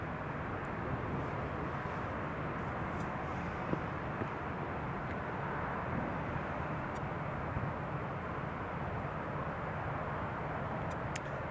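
A Jet2 airliner being pushed back from its stand at Newcastle Airport, heard as a distant, steady low engine drone and broadband rumble that holds level throughout, with faint occasional clicks over it.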